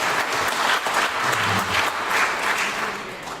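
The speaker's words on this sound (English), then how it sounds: "that's worth an applause" At a keynote event about wrongful conviction, an indoor audience breaks into dense, sustained applause that stays fairly even throughout, with no voices standing out.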